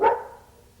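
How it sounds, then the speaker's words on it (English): A dog gives one sharp bark from somewhere in the next room, loud at first and then fading quickly into a quiet room tone. "excuse my dogs, they're just all freaking out back there"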